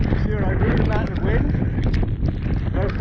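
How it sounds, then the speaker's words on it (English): Strong wind buffets the microphone in a Lake District valley, a constant loud roar with gusty surges throughout, while someone talks over it. "See what I mean about the wind?"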